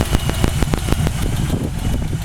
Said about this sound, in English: Engine seems to run real well.